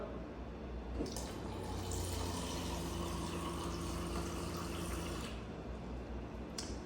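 Water streams steadily from a reverse osmosis filter faucet mounted at a home bar, filling a drinking glass in one continuous pour for several seconds with no talking.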